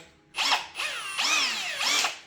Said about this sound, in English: Chuck this thing in the drill